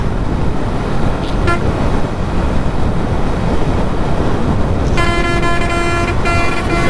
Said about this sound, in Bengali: এই দেখেন পিছনে আমার স্পিডে একটা গাড়ি আসতেছে